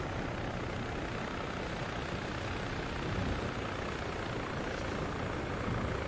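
Helicopter rotor and turbine drone from a military video game, a steady, dense broadband roar holding at a constant level throughout with no break, no talk over it.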